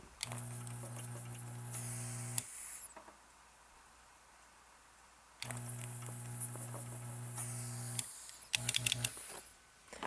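A shop vacuum at a pinball repair bench, working on a Bride of Pinbot power board, whines steadily in two long bursts separated by quiet, ending with a short on-off stutter.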